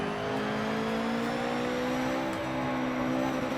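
Simulated race car engine from Forza Motorsport 7, a Subaru on the Nürburgring, held at a loud, steady high-rpm drone with a hint of strained over-revving, alone without talk.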